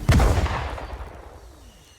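Corsair ship guns in Star Citizen fire as a single heavy, booming blast right at the start, then the sound decays over about two seconds into a fading rumble with no talk.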